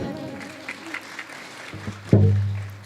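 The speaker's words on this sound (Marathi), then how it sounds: "एकदा टाळी वाजवा की" Scattered claps from an audience at a Narmada parikrama kirtan, sparse and uneven, followed by a sustained low tone swelling in near the end.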